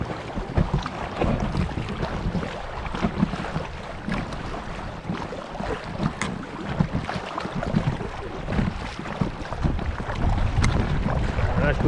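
Steady wind gusting over open water while paddling an inflatable Gumotex canoe in choppy, wavy conditions, with broadband rushing noise and microphone buffeting throughout, no talk.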